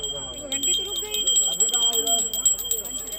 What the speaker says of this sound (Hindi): इसमें घंटी भी नहीं रुकनी चाहिए